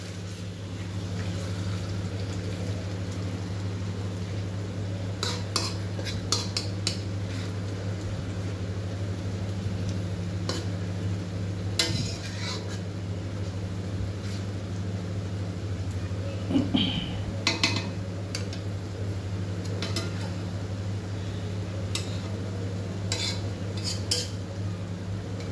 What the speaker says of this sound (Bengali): কিছুক্ষণ নাড়াচাড়া করবো, করতে করতে আমার টমেটোটাও সেদ্ধ হয়ে যাবে কড়াতে।